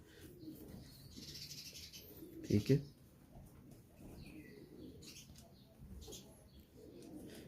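Pigeons coo softly at the Lahore Lari Adda pigeon market, a faint background of bird sounds with a brief louder burst near the middle while someone talks nearby.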